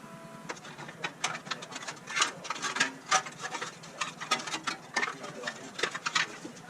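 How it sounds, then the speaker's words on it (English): A short 8mm gear wrench ratchets on a bolt deep inside a 2014–19 Ford Escape 2.0 engine bay during transmission removal, a quick irregular clicking in bursts, close and fairly quiet. "Use this short 8mm gear wrench to get it."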